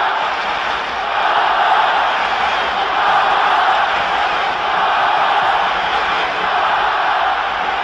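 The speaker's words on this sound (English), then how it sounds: "This huge crowd now getting behind Barcelona" Huge stadium crowd roars in a steady wash of cheering for Barcelona during the 1974/75 European Cup semi-final second leg against Leeds United, a loud, sustained din with no clear voices standing out.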